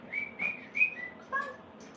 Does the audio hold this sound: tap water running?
no